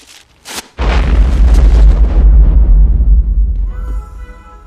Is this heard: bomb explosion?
yes